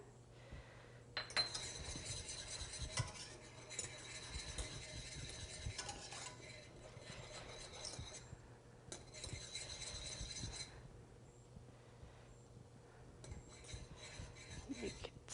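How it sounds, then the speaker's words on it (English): A whisk stirs creamy Alfredo sauce with oregano in a pot as it cooks and thickens, giving steady scraping, clinking strokes against the metal in repeated bursts over a low background hum. "you want to keep whisking as well"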